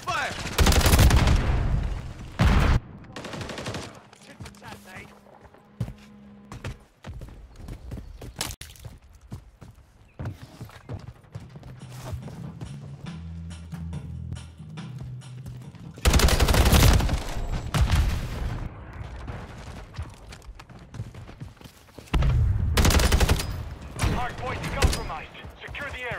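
Gunfire in the video game Call of Duty Modern Warfare 3 multiplayer, with loud bursts of automatic fire near the start, middle and end, separated by quieter stretches of footsteps and game noise.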